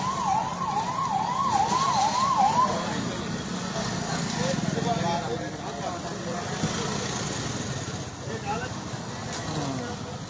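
A police van siren wails in rapid rising and falling sweeps at first, then fades under street traffic noise while people talk nearby.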